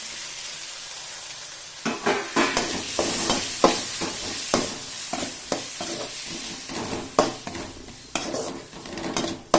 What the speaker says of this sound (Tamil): நம்ம தக்காளி போட்டு வதக்கிக்கலாம்